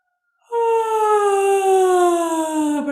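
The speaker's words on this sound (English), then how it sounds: "And now let's bring a yawn. So I want you to yawn." A person gives a long, open, voiced yawn that starts abruptly after a short silence and holds a steady, slowly falling tone, loud and close, with no other sound.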